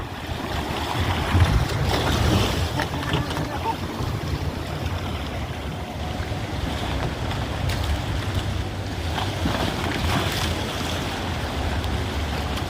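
Strong sea waves surge and crash close to moored fishing boats on a shore, a continuous loud roar of surf with wind buffeting the microphone and a heavier swell around the second mark.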